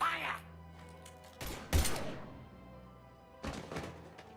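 Gunfire and impacts in the video game Mass Effect, a few sharp loud bursts and thuds spaced irregularly over a low background hum, with a voice briefly audible at the start.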